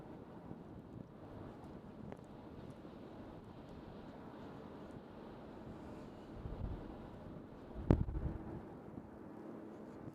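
Steady wind buffets an open outdoor spot beside an airport apron under clear skies, a continuous low rushing roar with one brief sharp gust thump near the end.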